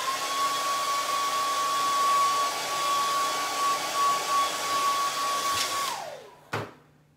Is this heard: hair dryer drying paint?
yes